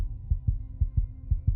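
A pounding heartbeat sound effect for an animated horror story thumps in three steady lub-dub pairs, deep and muffled over a low hum, with no voice.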